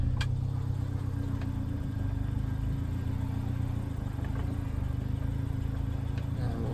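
A Subaru Sambar kei truck carrying a 16-foot canoe hanging off the back drives along a narrow trail, its small engine droning steadily and close with a continuous low rumble and no talking.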